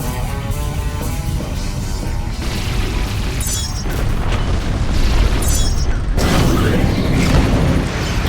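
Missile explosions in the space combat game Rebel Galaxy thunder in heavy overlapping booms and crashes over a steady rumbling backdrop. The blasts are loud and close and swell toward the end.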